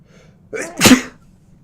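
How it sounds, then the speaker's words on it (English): A single loud, sharp sneeze with a short breathy intake before it, close to the listener, followed by quiet. "that was a big sneeze"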